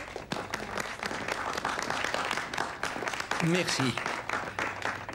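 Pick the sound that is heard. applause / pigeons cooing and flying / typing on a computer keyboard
applause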